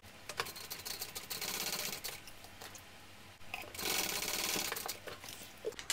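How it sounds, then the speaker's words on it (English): A sewing machine bastes backpack strap connectors together, rapid needle stitching in loud close bursts with brief pauses between runs and no voices. "And I am going to baste these together at the bottom."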